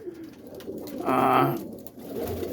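A roller pigeon gives a soft, low cooing call at close range, a short throaty phrase over a faint background hum.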